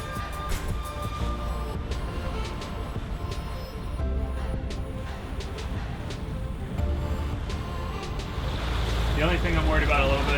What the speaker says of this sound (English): we picked a pretty good day to go sailing. Sailing with our motor.